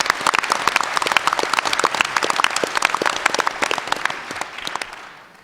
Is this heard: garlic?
no